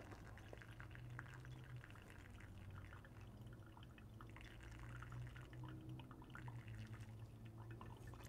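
Hot water is poured gently over coffee grounds during the bloom phase of a pour-over brew with a Fellow Stagg X brewer, a faint, steady trickle that continues throughout.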